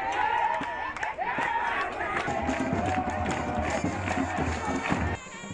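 A large enthusiastic crowd gathered in the sub-prefecture of Pacobo to await a visiting official, a steady murmur of voices and movement with occasional shouts, heard under a narrator's voice.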